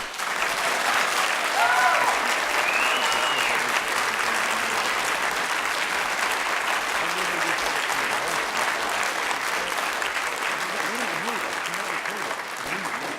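Sustained applause fills a city-county council chamber after a councilor's speech, dense, even clapping from a crowd that carries on at a steady level for over ten seconds, with faint voices and murmurs underneath.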